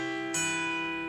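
A minor chord strummed once on a guitar, a single crisp strike that rings out evenly over lingering strings, close and moderately loud with nobody speaking.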